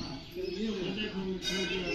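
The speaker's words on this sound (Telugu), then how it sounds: "ఇలా రకరకాల బర్డ్స్ ఇక్కడ చూడండి." Assorted birds including cuckoo-shrikes call in an aviary at a bird park in Ramoji Film City, Hyderabad, with soft cooing and chirps that are partly masked by steady background noise.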